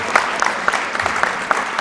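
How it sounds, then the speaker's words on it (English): A small audience at a Super Mario World speedrun race applauds, giving a soft, steady patter of clapping with a few louder individual claps standing out, moderately distant and without talk. "Round of applause for Area 51."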